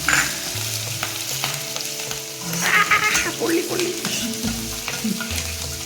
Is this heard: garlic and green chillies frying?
yes